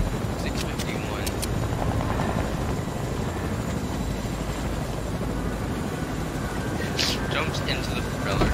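Video game helicopter with a continuous whirring roar that holds at an even level the whole time, with voices talking over it.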